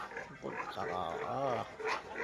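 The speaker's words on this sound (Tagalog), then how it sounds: "may baboy na" Pig oinks and grunts up close in a short, continuous run, with people talking over the animal sounds.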